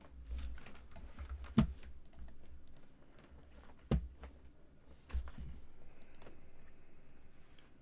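Keys tapped on a computer keyboard during an online competitive game match, a soft, steady patter of typing with a few sharper isolated clicks standing out, quiet and close without any talk.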